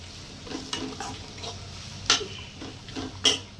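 Small onions and red chillies tempering in a little oil, giving a soft steady sizzle with occasional spoon stirs and two sharper metallic clinks against the pan.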